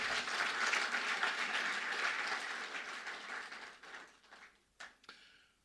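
Audience applause at an alumni lecture gathering, a dense sustained wash of many clapping hands that holds steady for several seconds, then thins and fades out with a few last scattered claps.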